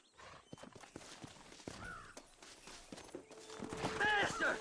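Horses walking in the video game Red Dead Redemption, hooves clip-clopping in a steady uneven rhythm close by, with a whinny near the end and voices talking over the hoofbeats.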